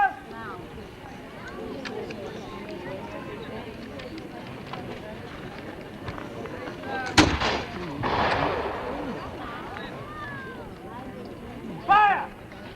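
Guns or cannons fire a volley at a fur trade post reenactment, one sharp loud blast followed by a rolling echo, with a second burst near the end, over faint background murmur and a shouted command.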